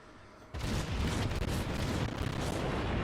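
Main guns of the Soviet cruiser Murmansk open fire in World of Warships, a sudden loud roaring blast that sustains as a dense, rumbling barrage.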